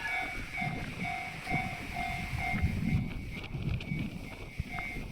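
A freight train rumbles steadily past a railroad crossing, its low wheel noise and rattling cars continuous, with a repeating crossing bell tone ringing over it.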